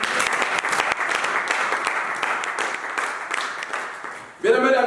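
A church congregation applauds the Lord in a dense, lively burst of clapping that fades out. A voice then breaks in loudly at the very end.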